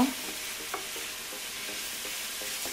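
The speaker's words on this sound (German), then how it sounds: "Und dann lassen wir das mal ein bisschen anbraten, das Fleisch." Half-and-half minced meat with a bay leaf sizzles steadily in a pan for Sicilian arancini, a constant hiss of frying with light scraping taps of stirring, close and even.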